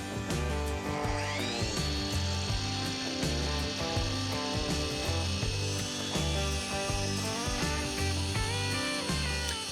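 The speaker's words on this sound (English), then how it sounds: "we're gonna cut this to size" A power saw cuts a wooden board to size for a growth ruler, its motor whining up and holding a steady high tone, with a rhythmic music-like pattern running underneath throughout.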